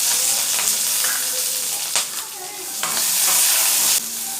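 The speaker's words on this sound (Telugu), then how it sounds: "కడాయిలో 1 స్పూన్ ఆయిల్ వేసుకుని 10 పచ్చిమిర్చిని వేయించుకోవాలి" Ten green chilies fry in a spoonful of oil in a kadai, giving a loud, close, steady sizzle broken by a few scrapes and clicks of stirring.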